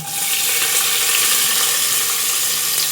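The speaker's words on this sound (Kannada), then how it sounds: "ನೀರುಳ್ಳಿ ಫ್ರೈ ಮಾಡ್ತದೆ." Onion fries in hot oil for a Mangalore-style chicken curry, a loud, dense, unbroken sizzling hiss heard up close for a few seconds without speech.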